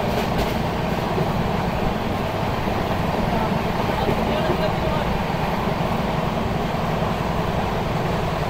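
Rupasi Bangla Express train running on rails between Santragachi and Purulia, approaching Bishnupur Junction past forest, heard from inside as a steady, loud rumble with continuous wheel clatter throughout.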